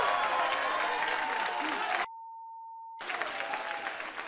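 Studio audience applause at a daytime talk show, a steady broadband clatter of clapping that cuts out abruptly midway behind a flat tone, then resumes at similar strength.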